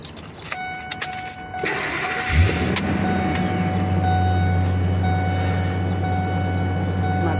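A 2000 Ford Excursion truck engine cranks briefly and catches at about two and a half seconds, then settles into a steady, loud, close idle with a low rumble that continues to the end.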